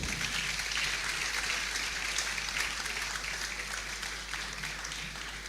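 An audience at a university employability fair claps in a broad, continuous wash of applause, steady and fairly distant, filling the hall with no voices standing out.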